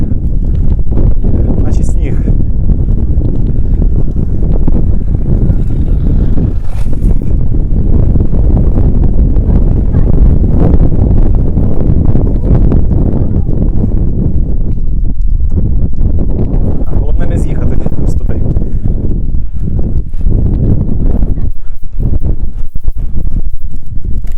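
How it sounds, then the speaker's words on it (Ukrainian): Strong wind buffets the microphone in a loud, continuous roaring rumble on phosphogypsum spoil heaps during a bike ride, with a voice briefly audible beneath the gusts. "Тут так вітер завіває."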